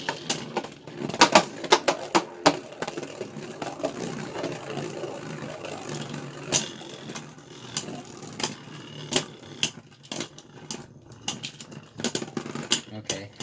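3D printed Beyblade Burst tops, including Dragoon S, spin and clash in a stadium, with sharp clicks and impacts scattered over a steady whirring hum at close range.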